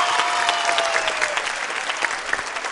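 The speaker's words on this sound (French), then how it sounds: "applaudissez bien, bien fort s'il vous plaît" Loud burst of audience clapping in a television studio show, dense and close, with a faint tonal whistle or cheer rising over it early on.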